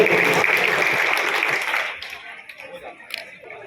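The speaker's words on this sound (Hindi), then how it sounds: "जोरदार तालियों के साथ में महापौर जी का अभिनंदन हो" Applause for the mayor at a Jabalpur ceremony honouring sanitation workers, a dense crowd clapping loudly for about two seconds, then fading into scattered claps and room noise.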